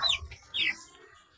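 Young chicks about two months old give two short high clucking chirps, one at the start and one about half a second later, faint and close with no talk.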